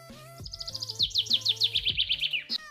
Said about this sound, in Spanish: En 20 decibeles, unos pájaros cantando.